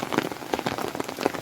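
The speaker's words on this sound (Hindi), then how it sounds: "सुबह से ही जोरदार मूसलाधार बारिश जिसको बोलते हैं" Heavy monsoon downpour in a hill setting, a dense, steady hiss of rain pattering on surfaces, close and continuous with no voices.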